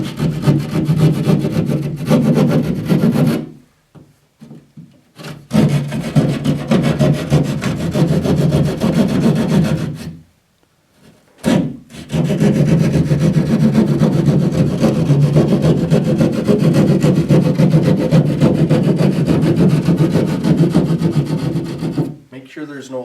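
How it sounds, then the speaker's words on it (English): A drywall saw rasps through a drywall panel during a patch repair in long, loud, continuous sawing bursts, close up. Two short pauses break the cutting, and faint talk sits beneath it. "just take your drywall saw"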